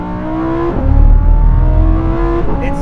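A loud Lamborghini Huracan Tecnica V10 engine, STO spec, revs up, dips briefly at a gear change, then climbs again with a rising whine.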